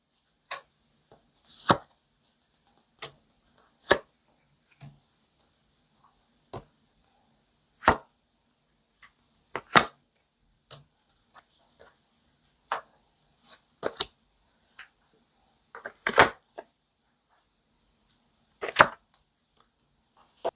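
Tarot cards being shuffled and drawn, crisp isolated snaps and brief riffling flicks spaced irregularly against near silence, close and clear with no talk.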